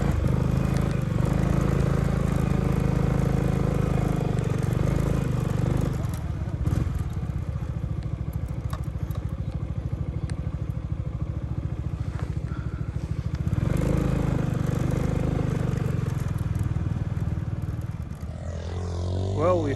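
A motorbike labouring through volcanic sand dunes at Bromo, Indonesia: a steady, close engine drone that strains and dips around six seconds before surging again, with a rider's voice heard over the engine.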